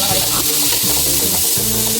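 Chopped onions dropped into hot oil for a chickpea tamarind kuzhambu give off a steady, bright sizzle, with a low tonal hum running underneath throughout.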